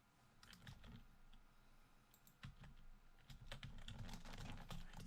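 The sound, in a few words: typing on computer keyboard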